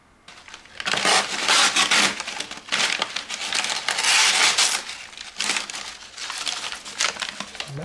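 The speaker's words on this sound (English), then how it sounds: "Well, it can cut through paper." A sharp real balisong knife blade slices through paper in several crisp, rasping bursts of crinkling and tearing, close by with short pauses between strokes.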